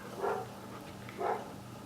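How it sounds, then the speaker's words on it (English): Dogs bark outside, two muffled barks spaced about a second apart, heard at a distance through a room with a low steady hum. "There's doggies barking."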